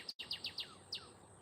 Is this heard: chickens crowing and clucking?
no